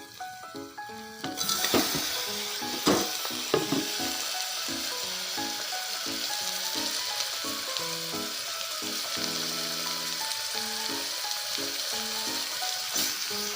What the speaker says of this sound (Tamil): இது வெங்காயம் நல்லா வதங்கி வந்துருச்சு